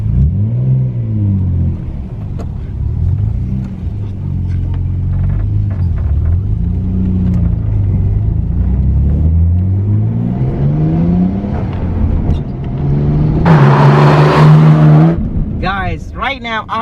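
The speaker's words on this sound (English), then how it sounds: "Right now I am driving Nissan Skyline GT-R R33, and performance of this car is just fabulous." Nissan Skyline GT-R R33 in dark grey pearl, its engine rumbling and climbing through revs as it drives, with a sharp loud rev burst near the end.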